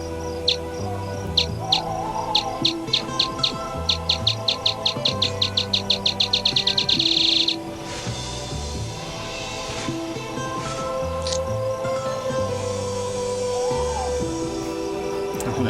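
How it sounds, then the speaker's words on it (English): Bat echolocation squeaks, slowed to audible pitch, tick at a steady rhythm then speed up into a rapid buzz as the bat homes in on prey, followed by a steady hum with faint chirps. "As the bat homes in, its squeaks speed up."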